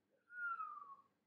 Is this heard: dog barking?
no